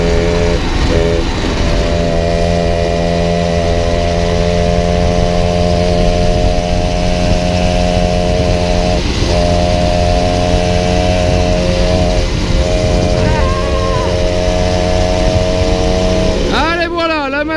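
A 1997 Peugeot 103 RCX moped's small two-stroke engine runs loud and close with a steady buzzing drone, rising in pitch near the end as the throttle opens, while someone talks over it.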